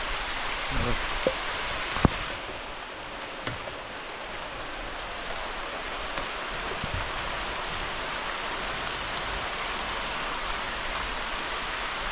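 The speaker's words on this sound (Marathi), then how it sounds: "पाऊस पडला आणि मस्त सगळं गारगार झालं" Steady rain falls and patters on surfaces outdoors in a Konkan village setting, a constant close hiss with a few brief louder drips and knocks scattered through.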